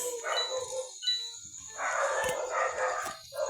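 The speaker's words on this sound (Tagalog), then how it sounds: "may tumatahol sa amin" A dog barks in a few short bursts, one early and a longer run later, at moderate distance over quiet background.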